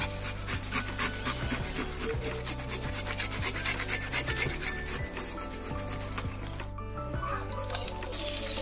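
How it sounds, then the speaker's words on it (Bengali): Peeled cucumbers and a small onion rubbed against a grater, making steady rasping strokes in a repeated rhythm, close and moderately loud, with a faint tonal hum underneath. "এবার এগুলোকে একটু ঘষে নেব কদু কষে"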